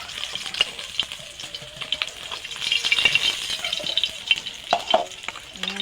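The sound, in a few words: tilapia fish frying in oil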